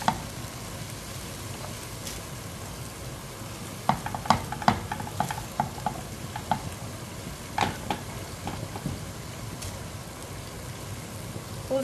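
Minced meat with mozzarella cheese is stirred in a hot pan, giving a soft continuous sizzle broken by scattered spoon scrapes and clicks against the pan.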